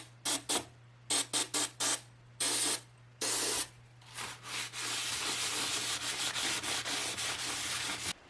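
Oxide cleaner is sprayed onto the tube sockets of a 5150 amplifier in short sharp hissing bursts, then a longer steady spray, close up with a low electrical hum underneath.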